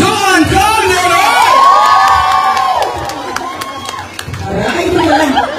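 A crowd at a neighborhood homeowners' association anniversary event cheers, whoops and shouts loudly. Children's voices rise above the din, and chatter continues beneath it throughout.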